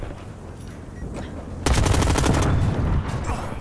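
Automatic gunfire in Call of Duty on the Nuketown map breaks out suddenly partway through as a loud, rapid, close volley. Quieter game ambience comes before it.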